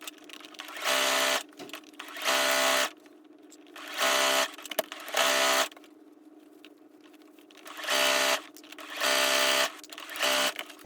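A sewing machine stitching a straight seam with backstitching through fleece, running in several loud bursts of steady whirring separated by short pauses and faint handling.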